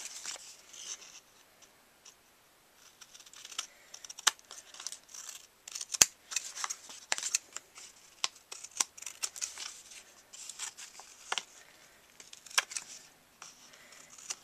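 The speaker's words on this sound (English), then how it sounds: "go around and trim off the parts that extend over the edge of the card" Scissors snip and trim the edges of a paper-covered card, some adhesive catching on the blades, in a close, crisp run of irregular cuts and rustles with brief pauses, no talk.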